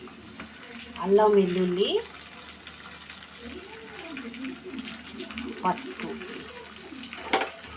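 Mutton fries in a pan with ginger-garlic paste, turmeric, salt and chopped green chillies, a soft sizzle and occasional stirring running under someone talking.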